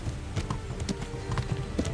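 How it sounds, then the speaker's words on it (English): Hooves of a ridden horse clip-clop along a countryside path in Kingdom Come: Deliverance, a quick steady rhythm of thuds with a soft background bed, close and alone. "When riding, you can give your horse its head and it will stick to the path you're on"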